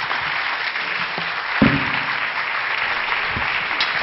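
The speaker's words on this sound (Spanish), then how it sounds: "Despedimos a nuestra conferencista con un fuerte aplauso" A conference audience claps strongly to send off the departing lecturer after a keynote talk, a steady wash of many hands with a few sharper nearby claps.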